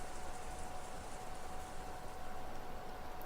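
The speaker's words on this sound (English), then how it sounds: "The sound of the rain is a sound of silence." Steady rain in the Umineko visual novel during a typhoon, an even wash of hiss with no breaks or talking, loud and constant throughout.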